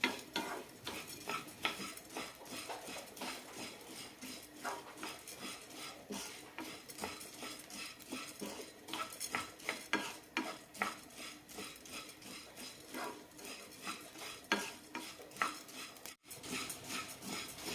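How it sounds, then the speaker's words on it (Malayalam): Soaked rice and green gram roast in a pan while a spoon stirs and scrapes repeatedly, giving a busy rhythm of close scraping clicks over a faint sizzle. "വെള്ളമൊക്കെ വറ്റി ചെറുതായൊരു ചുവന്ന കളറാവുന്നവരെ വറുത്തെടുക്കാം"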